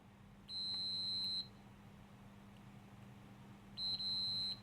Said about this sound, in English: If I touch the probes together.